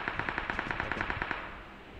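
Rapid automatic gunfire in PUBG Mobile, a steady burst of about a dozen evenly spaced shots at close range, then a fading tail of echo.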